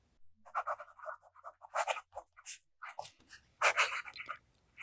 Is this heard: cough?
no